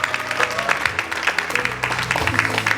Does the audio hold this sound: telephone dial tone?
no